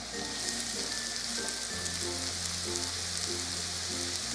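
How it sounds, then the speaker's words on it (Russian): Sliced mushrooms frying in vegetable oil over high heat, a steady, even sizzle that continues throughout, heard alone at low volume. "Нарезанные грибы также обжарю на растительном масле."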